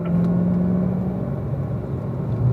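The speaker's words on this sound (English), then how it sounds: "Squeezing into that throttle from that apex, using the track up on our exit." A Chevrolet Camaro accelerates out of a track corner, its engine a steady, loud, close droning rumble with a slight shift in pitch partway through, and no voices.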